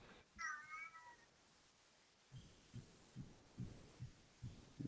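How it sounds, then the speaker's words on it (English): A cat meows once in the background, a short rising-and-falling call near the start, followed by soft rhythmic thumps like a heartbeat, all fairly faint. "Sound like the cat in the background said hello."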